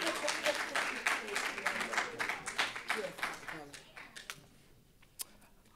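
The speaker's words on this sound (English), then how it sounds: "There's no stop clapping as she gets to the stage" A live audience applauds a poet walking to the stage at a community poetry event. The close, lively clapping thins out over several seconds into a few last scattered claps.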